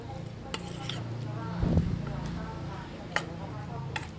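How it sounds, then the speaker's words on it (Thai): Raw shrimp tossed in a bowl to coat them before frying, giving soft wet rustling and light clicks with a low murmur underneath, close and fairly quiet. "คลุกพอให้เขาเกาะตัวกุ้งเท่านั้นนะครับ"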